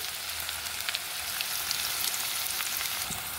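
Onions and two green chillies fry in hot oil, a steady close sizzle with fine crackling pops throughout and no talking.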